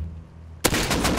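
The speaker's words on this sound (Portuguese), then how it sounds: "Vou dar tiro de snipe mesmo" A sniper rifle fires in the survival game Rust after a quiet moment, with a sudden sharp crack and then a dense burst of rapid gunfire echoing for the rest of the moment.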